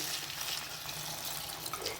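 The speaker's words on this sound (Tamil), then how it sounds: "இப்போ இதில் தண்ணி ஊற்றிடலாம்." Water poured into a Chettinad cooking pot holding a green mango and drumstick pachadi, a soft steady splashing hiss, faint and continuous with no voices.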